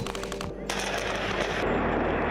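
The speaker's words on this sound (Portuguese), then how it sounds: "150 mil soldados russos armados até os dentes treinando tiro do lado da sua casa" Rapid gunfire from Russian soldiers at shooting practice, dense crackling bursts running continuously and loudly throughout.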